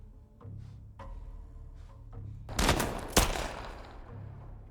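Gunfire in The Last of Us in survival mode, with two sharp bursts of shots in the middle over a low background hum, with no talk.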